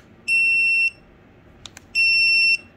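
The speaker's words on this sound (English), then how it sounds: "So we're gonna do the beeping noise first." Two long, steady electronic beeps from a dog shock collar, each about half a second, separated by a pause with a couple of faint clicks. Clear and close, with no voices.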